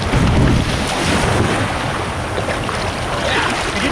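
Ocean waves and strong wind on the Oregon coast, a loud continuous roar of surf and buffeting wind noise across the microphone, with no voices.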